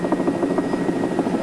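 A helicopter in flight, slowing with its nose pitched steeply up, gives off a steady, rapid rotor thump with a continuous engine drone underneath, loud and close throughout.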